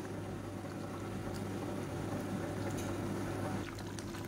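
Water for a chicken white biryani simmering in a pot, a steady, even bubbling hiss with a low hum beneath it, continuous and close for the whole stretch.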